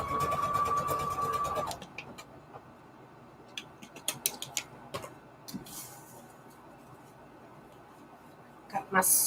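Sewing machine running a decorative stitch through paper ribbon, heard as a steady whirring hum at first, then quieter scattered ticks and clicks of the mechanism, with a brief burst of motor sound at the end.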